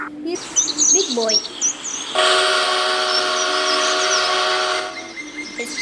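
Big Boy steam locomotive horn in the TrainWorks video game, a loud sustained chord-like blast held for about three seconds, preceded by bird chirps and game ambience.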